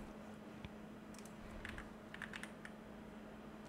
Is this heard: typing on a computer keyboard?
yes